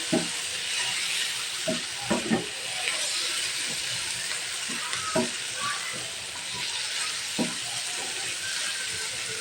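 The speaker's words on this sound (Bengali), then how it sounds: "এটাকে এখন চিকেনটার সাথে মিশিয়ে একটু ভেজে নিচ্ছি ভালো করে" Chicken and tomato sauce fry together in a pan, giving a constant bright sizzle and hiss, punctuated by a few sharp scrapes and clacks as the mixture is stirred, close and without speech.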